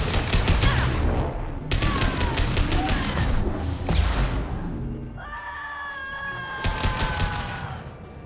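Gunfire in the video game Mass Effect 2, loud bursts of rapid automatic shots in several volleys with short gaps, plus a sustained electronic tone near the end, up close and dominant.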